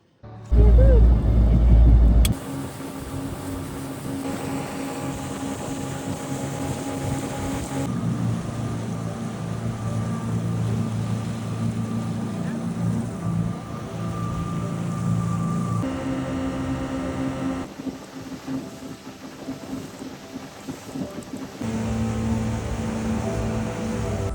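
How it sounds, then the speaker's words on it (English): A boat cruises across Lake Sevan in Armenia, its engine droning steadily under wind and water noise for the whole ride, with a loud bump at the start. "And now we are going for a boat ride in Lake Sevan."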